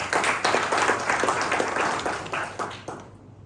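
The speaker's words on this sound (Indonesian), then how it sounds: "Tepuk tangan untuk Tuhan." Congregation applause at a Sunday church service in Cipanas, a full burst of many hands clapping with rhythmic surges that thin out and fade at the end.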